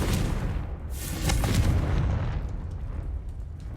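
A Confringo spell blast in Hogwarts Legacy, a heavy booming explosion with a deep rumbling body that swells and then trails off, loud and up close.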